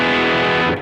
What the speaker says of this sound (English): I have distortion on the Cerberus.